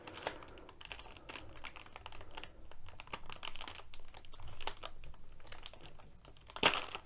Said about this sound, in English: when you're trying to peel it, it will tear a hole in the bag.